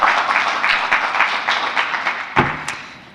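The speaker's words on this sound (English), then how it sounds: "Let's give her a warm applause" Audience at an automotive forum clapping to welcome a General Motors managing director to the stage: a steady wash of applause that thins toward the end, with a single louder thump partway through.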